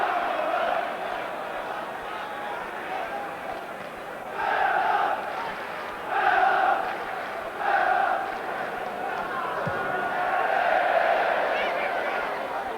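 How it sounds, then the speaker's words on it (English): A football stadium crowd at a 1988 Middlesbrough v Aston Villa match roars in a steady distant wash, rising into several short surging chants and cheers, while a commentator talks over it. "Crowd are going to cheer everything Cooper does now"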